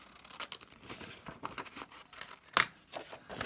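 Scissors cutting through a printed paper page for a craft project, a series of close, crisp snips and paper rustles in an irregular rhythm, with one sharper, louder cut midway and no talking.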